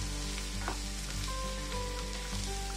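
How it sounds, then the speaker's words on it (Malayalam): Onions, green chilies and curry leaves fry in hot oil for a Kerala-style chicken roast, a steady close sizzle with faint stirring clinks throughout, no talking. "എണ്ണ ചൂടായി കഴിയുമ്പോൾ അതിനകത്തേക്ക് സവാള, പച്ചമുളക്, കറിവേപ്പില എന്നിവയിട്ട് ഇളക്കാം."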